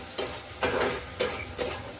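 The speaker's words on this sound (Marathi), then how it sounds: "आता आपण हे हलवून घेऊया" A spoon stirs a tempering frying in a pan, beside tamarind water, for a South Indian rice dish. There are four distinct scraping strokes with a steady sizzle underneath, close and moderately loud.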